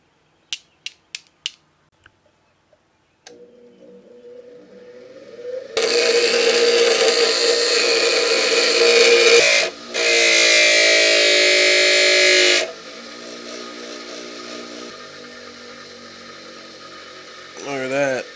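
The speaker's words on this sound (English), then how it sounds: "So we're going to be grinding away." A power grinder works a lug nut extractor down to fit a 20 mm socket: a few sharp taps, then a motor spinning up into loud sustained grinding in long bursts, and a brief pause.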